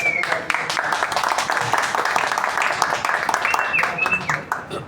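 Audience applause at an evening book talk and literary event, a steady crowd clapping throughout with a few brief whistle-like tones near the end.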